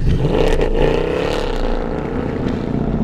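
A Mercedes-Benz C63 507 coupe's 6.2-liter V8 idles with a steady, deep rumble, loud and close, holding an even tone without revving.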